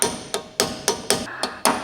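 Brake pad pins on a Mini R52 are driven home with a hammer: seven sharp metallic blows in an uneven rhythm, loud and close, each ringing briefly before the next strike.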